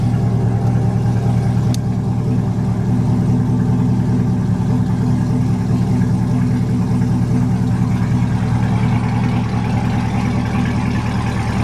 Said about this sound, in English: it's kind of loud, so I don't know if you'll hear me, but the engine's running